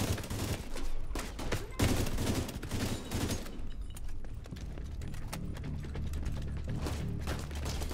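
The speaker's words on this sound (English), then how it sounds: "Burst fire." Burst fire from a gun in The Division 2, with quick clusters of sharp shots cracking over steady battle noise. The bursts come thick in the first seconds, then fall back into a busy, rattling din.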